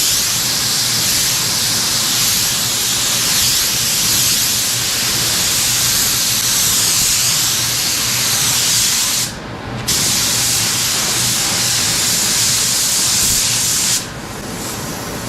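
Spray gun spraying sealer onto an old truck, a loud continuous close hiss of atomised paint, briefly cutting out twice as the trigger is released.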